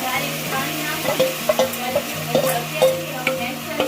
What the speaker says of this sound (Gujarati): આપણે વઘાર કરી નાખ્યો અને ગ્રેવી નાખી દીધી